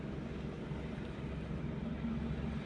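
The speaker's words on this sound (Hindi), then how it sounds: "इंजन की आवाज़ थोड़ा मोटी सी हो जाएगी, थोड़ा सा आवाज़ सुनो गाड़ी की।" A car engine runs during a first driving lesson as the clutch is released, a low, steady rumble close by that stays fairly even throughout, with no voices.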